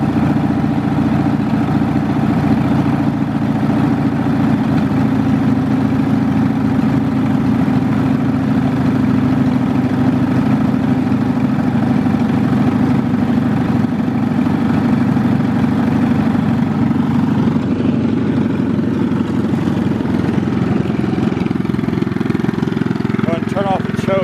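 A lawn mower engine idling steadily after a cold start, a loud, continuous, even drone throughout, with a person talking over it.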